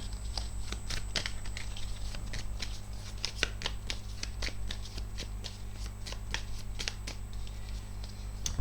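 Tarot cards being shuffled by hand up close: a continuous run of crisp riffling and flicking bursts, steady and moderately loud throughout, with no talk.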